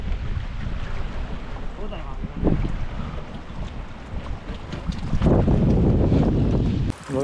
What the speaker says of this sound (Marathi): हवा पण सुटली ना.